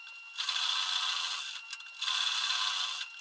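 A sewing machine stitches blouse fabric in two clear runs of steady, high-pitched whirring, close and even, with a short pause between them and no talk.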